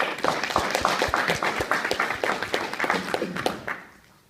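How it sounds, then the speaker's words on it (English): A training session audience gives Rashid a round of applause, dense clapping from many hands that holds steady for several seconds, then quickly dies away. "give him a massive round of applause"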